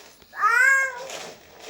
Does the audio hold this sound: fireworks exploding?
no